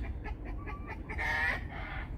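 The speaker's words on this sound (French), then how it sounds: "Et la poule qui a pondu." A hen clucks in a series of short calls after laying an egg, rising into a louder drawn-out squawk, with low background rumble throughout.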